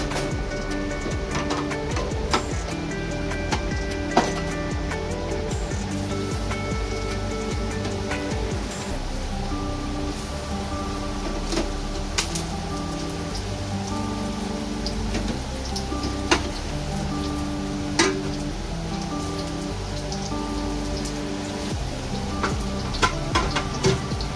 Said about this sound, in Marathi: अजून थोडे आपल्याला फ्राय करायचे